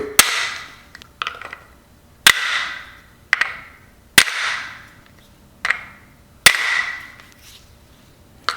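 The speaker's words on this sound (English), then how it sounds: "take a brass hammer, and we're not knocking the crap out of it" A brass hammer taps an engine bottom-end part to break it free, giving sharp metallic strikes at irregular intervals, about a dozen blows, some loud with ringing decay and others lighter.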